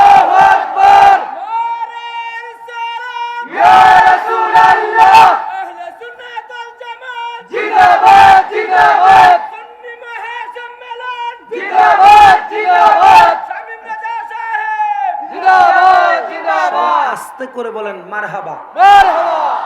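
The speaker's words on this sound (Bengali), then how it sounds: "এটা একটু জোরে আবার দেন তাকবীর আল্লাহ" A large crowd at an outdoor religious sermon chants takbir in loud, repeated bursts, with a lead voice calling out between the massed responses in a rhythmic call-and-answer pattern.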